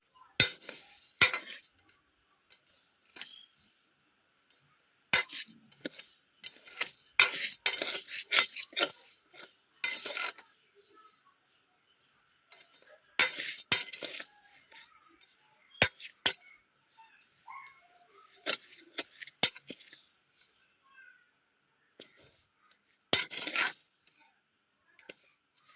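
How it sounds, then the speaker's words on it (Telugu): Toor dal and moong dal dry roasting in a pan on the stove, the lentils rattling and a spoon clinking and scraping in quick irregular bursts with short pauses, close and fairly quiet. "ఈ పప్పుని అయితే నేను ఇప్పుడు స్టవ్ మీద పెట్టి కొంచెం వేయించుకుంటున్నాను."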